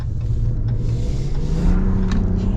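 A 2025 Ram 1500 Rebel with the Hurricane engine accelerating, a steady low rumble from inside the cab that swells slightly toward the end.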